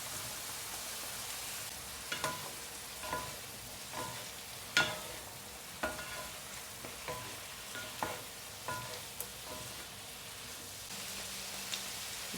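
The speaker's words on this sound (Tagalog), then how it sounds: "Ilalagay ko na guys ang ating broccoli." Broccoli sautéing in a hot pan with mushrooms, a steady sizzle running throughout while a utensil stirs and knocks against the pan in irregular light taps, close and moderately loud, no talk.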